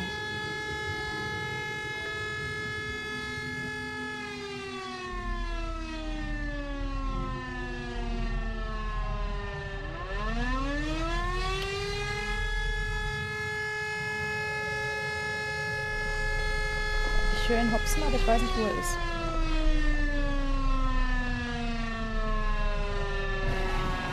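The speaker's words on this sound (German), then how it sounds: "Oh, nicht jetzt die Sirene, ey." Wailing siren in the video game The Void rises and falls in long sweeping harmonic glides, loud and steady across the whole stretch, with someone talking quietly underneath.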